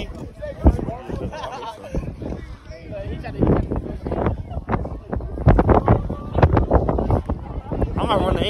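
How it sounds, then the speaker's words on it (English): Heavy wind buffets the microphone in loud, rumbling gusts at an outdoor track meet while people talk underneath. "It's so windy."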